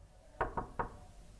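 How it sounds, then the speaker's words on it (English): Three sharp knocks on a door, a quick pair followed by a third, close and distinct against a quiet room with no talking. "There's another knock at the door."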